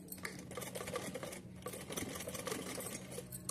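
A sewing machine stitching a small cotton garment, a rapid close mechanical clatter running almost continuously with brief pauses between bursts.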